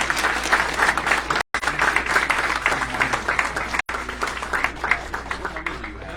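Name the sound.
audience applause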